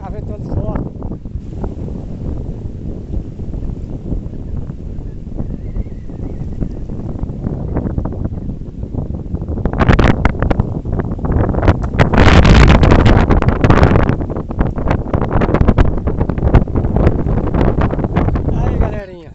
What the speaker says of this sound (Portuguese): Tá ventando forte.